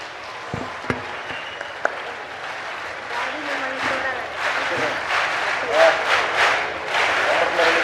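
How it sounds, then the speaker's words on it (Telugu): An audience at the opening of the ZP high school ground in Chandrampalem, Visakhapatnam, bursts into applause that swells to sustained clapping across the second half, after a few isolated taps and a quieter start. "మనందరం గట్టిగా చప్పట్లు కొట్టాలని ఈ సభాముఖం మిమ్మల్ని అందరినీ కోరుతున్నాం"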